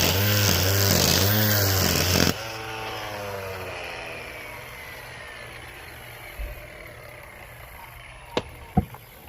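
A gas string trimmer running stainless steel wire as cutting line screams loud and close at high speed for about two seconds. It then cuts out abruptly and winds down, with a couple of sharp clicks near the end.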